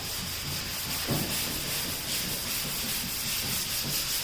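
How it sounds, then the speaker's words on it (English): Steady, close dry rasping of a sanding block worked across a Buick GS car body panel, with continuous strokes in changing directions and no talking. "I'll sand in one direction on an angle, change the angles, go the other direction"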